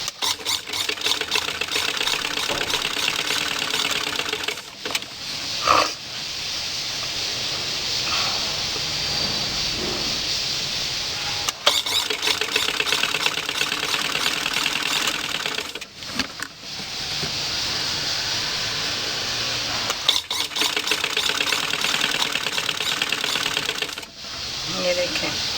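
An electric sewing machine stitching lace onto fabric runs in a steady, loud mechanical whir and rapid clatter, pausing briefly every few seconds before starting again, close up.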